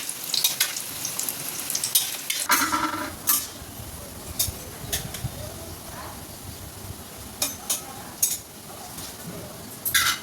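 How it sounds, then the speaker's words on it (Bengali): Lentil fritters (bora) frying in a wok, a hissing sizzle with bursts of louder bubbling crackle and occasional scraping stirs, close by. "চলো এগুলোকে ভালো করে ভেজে নিয়ে তারপরে কারি বানাবো"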